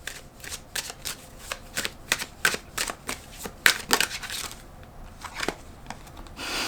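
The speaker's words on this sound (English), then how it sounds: "I'm going to pull one card from this, I think it's called the Intuition Oracle" A deck of oracle cards is shuffled by hand up close, giving a quick series of crisp riffling flicks and slaps in irregular bursts that thin out toward the end.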